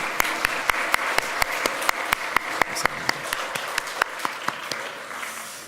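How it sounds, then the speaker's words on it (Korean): A church congregation at a Sunday service applauds in welcome, a dense wash of many hands with a steady run of sharp individual claps standing out throughout, fairly loud and reverberant, tapering slightly toward the end. "같이 오셨는데 일어나신 분을 큰 박수로 환영해 드리겠습니다."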